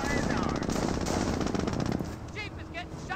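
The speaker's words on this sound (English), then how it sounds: "Jeep is getting shot to hell here. Jeep's receiving a bit of fire." Machine gun fire strikes a jeep in the strategy game Company of Heroes, rapid dense bursts for about two seconds, then quieter scattered battle noise.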